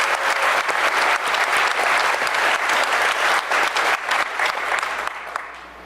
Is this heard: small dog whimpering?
no